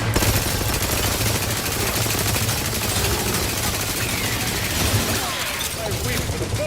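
Dense, continuous automatic gunfire in the video game Outer Worlds 2, loud and close with rapid overlapping shots, tapering slightly toward the end, with voices talking underneath.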